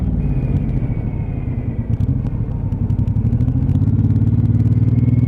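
A Suzuki Intruder 1800cc cruiser motorcycle, freshly serviced with new tyres, rumbles along the road under way, its low, loud engine note steady and then deepening as the throttle opens near the end.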